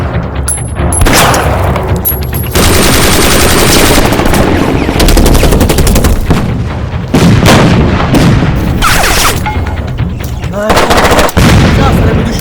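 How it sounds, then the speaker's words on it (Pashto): Loud, close bursts of rapid gunfire and heavy booming shots in a comedy skit, coming in repeated volleys with brief gaps between them. "دا رکې په ډزو شروع کړې ده"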